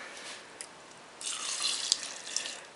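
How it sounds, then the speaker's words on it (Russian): Water is poured over rice in a multicooker while pork pilaf is being made. A faint trickle starts, then swells into a soft, steady splashing pour with a few small drips, all quiet and close. "наливаю воду, чтобы чуть-чуть прикрыла рис"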